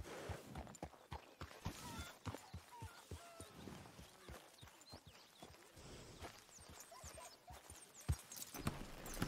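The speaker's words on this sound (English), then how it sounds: "Hit your damn horse, Marston." Horse hooves in a video game clip-clop in a steady, brisk walking rhythm, fairly close, with faint background ambience.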